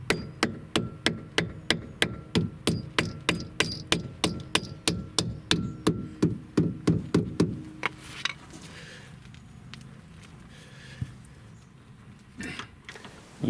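Regular sharp knocks strike about twice a second for some eight seconds while a Powerflex polyurethane bushing goes into a BMW Z3/E36 control arm, then the work turns to quieter handling noises with a louder thump at the end.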